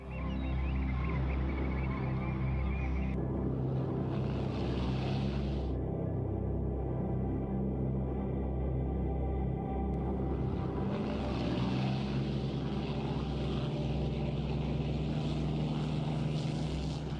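Propeller planes launching from the aircraft carrier Yorktown, a continuous loud engine and airscrew roar that swells and shifts as aircraft take off in waves.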